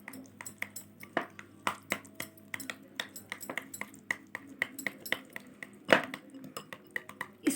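A spoon clinks and taps steadily against a bowl while powdered sugar is stirred into cake batter, a quick irregular rhythm of close, bright knocks with no talk.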